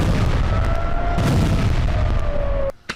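Heavy bombardment on Israeli positions near the Gaza border, a loud continuous rumble of explosions and blasts with a sustained tone running through it, cutting off abruptly near the end.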